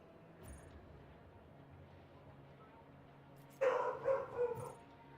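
A dog barks and yips excitedly in a short burst of several loud, close calls near the end, after a stretch of quiet room background.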